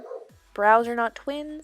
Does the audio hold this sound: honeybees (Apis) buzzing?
no